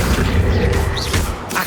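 The Accio summoning spell is cast in Hogwarts Legacy: a loud, dense whooshing boom that lasts the whole moment, with faint rising swishes through it.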